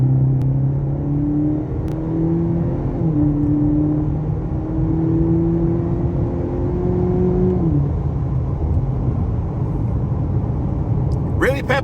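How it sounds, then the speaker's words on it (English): A 2021 Cadillac CT4 in sport mode accelerates hard from a standstill, its engine note climbing steadily and dropping at a couple of upshifts, loud and close inside the cabin while someone talks throughout. "let's go ahead and do another quick little acceleration. And come from a complete stop. I'm actually in sport mode."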